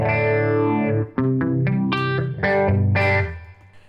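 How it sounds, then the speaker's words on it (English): An electric guitar runs through an old Ibanez phaser, giving a swirling, sweeping tone. Sustained chords give way to a run of sharp picked notes, then a final strummed chord that fades out, with no talking. "I have an old uh, Ibanez phaser"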